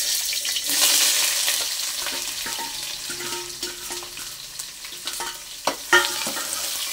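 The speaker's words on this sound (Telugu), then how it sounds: "ఇప్పుడు ముందుగా కట్ చేసి పెట్టుకున్న ఉల్లిపాయ ముక్కలు వేసేద్దాం" Chopped onions hit hot oil in a pan for vegetable biryani, a loud sizzle followed by continuous frying hiss with scraping stirs and a few sharp clinks of a spoon against the pan.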